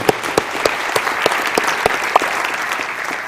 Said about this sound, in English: put a round of applause for them